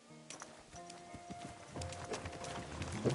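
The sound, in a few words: horse hooves galloping, from the video game Kingdom Come Deliverance 2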